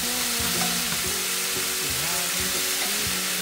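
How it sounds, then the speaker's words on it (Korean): Potatoes are stir-fried in a pan for a Korean side dish, a steady close sizzle with repeated scraping stirs running throughout. "국민 반찬 감자볶음은 고르게 익히는 게 포인트. 마구 휘저어주세요."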